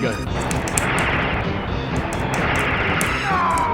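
Gunfire in the arcade shooter Metal Slug X on PS1: a steady, loud barrage of rapid shots and blasts runs throughout, mixed with game noise and a voice talking near the end.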